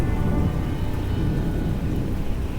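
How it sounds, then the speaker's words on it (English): Thunderclaps rolling through a thunderstorm, a deep continuous rumble with rain-like hiss, loud and steady throughout with no distinct breaks. "the terrible clap of thunder, one right after the other, so loud and fierce it seemed the sky itself was splitting apart"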